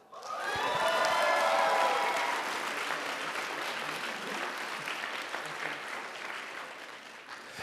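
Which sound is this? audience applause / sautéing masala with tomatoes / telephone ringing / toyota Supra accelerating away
audience applause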